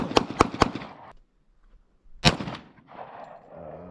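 Gunshots at an outdoor shooting range: three sharp reports in quick succession, a pause, then one more loud crack followed by fading echo and background rustle, with no talk during the shots.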